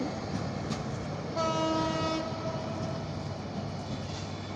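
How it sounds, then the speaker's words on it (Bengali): The Cox's Bazar Express passenger train pulls away from Dohazari railway station, with a steady rumble of rolling wagons and a loud horn blast that sounds partway through. "কক্সবাজার এক্সপ্রেস 2000 রেলওয়ে স্টেশন থেকে ছেড়ে যাচ্ছে।"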